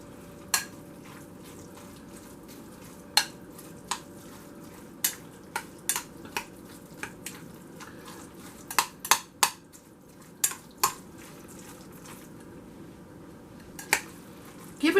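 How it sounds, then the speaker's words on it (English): Spoon stirring tomato sauce into a meat mixture for stuffed cabbage in a pot, with scattered clinks and scrapes at an irregular pace over a low steady background hum. "we're going to add a little bit of the tomato sauce in with our meat mixture. And we're going to mix that up"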